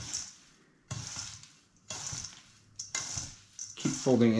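Whole grains folded into oil for granola make short bursts of scraping, rustling clatter in a bowl, separated by quiet gaps, with a voice entering briefly at the close.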